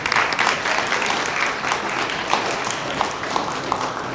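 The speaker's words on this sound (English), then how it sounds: "Round of applause." Sustained audience applause at a closing ceremony, a dense wash of many hands clapping steadily from a sizable crowd with no talk over it.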